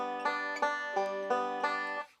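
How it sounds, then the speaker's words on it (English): Shelton roll banjo picking pattern played over chords, a bright plucked rhythmic roll with evenly repeating note attacks, close and clear, alone, ending with the notes fading out. "This is the Shelton roll. It sounds like this."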